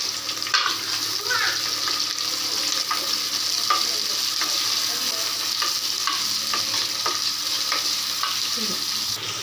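Onions and curry leaves frying in a pan, a steady soft sizzle with repeated scraping clicks of a spoon stirring, close and fairly quiet.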